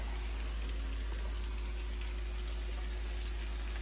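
Potato tacos sizzle in hot cooking oil, a dense, steady crackling hiss held close and even throughout, with a low hum beneath it.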